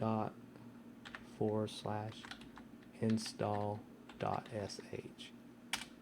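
Keys clatter on a computer keyboard as a password goes in at the Linux command line, quick scattered taps running under a man's speech throughout.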